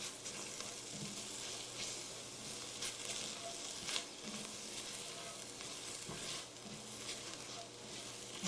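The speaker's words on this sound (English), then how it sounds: "Definitely want to keep stirring, because if anything sits in one spot for too long with all these dry spices on here, you could burn the spice and ruin the taste" Dry spices for a ground beef chili sizzle steadily in a hot pot while being stirred, a continuous quiet frying hiss with occasional scraping touches and no talking.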